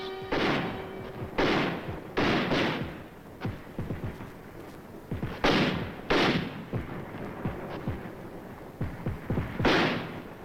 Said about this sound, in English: Mortars blast at the approaching Reds who threaten to cut off the combat teams.